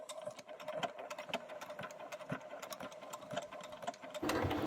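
A sewing machine edge stitching or top stitching runs in a rapid, even mechanical chatter, fairly close and quiet, before a brief louder burst of noise at the end.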